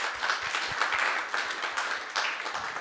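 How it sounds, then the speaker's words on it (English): Audience clapping for the speakers at the close of a workshop on energy communities and smart energy transition, moderate dense applause with uneven peaks and some scattered louder claps, heard alone. "So my applause to her and the speakers."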